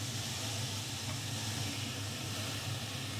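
Onions tossed into a hot pan give off a steady, even hiss of sizzling oil, soft and continuous throughout with no talking.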